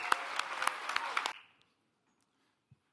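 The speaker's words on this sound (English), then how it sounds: "please join me in giving them one more round of applause for their incredible hospitality over this last 10 years" A conference keynote luncheon audience claps in a short burst of applause with a few sharper individual claps, then it fades abruptly into near silence with a soft bump near the end.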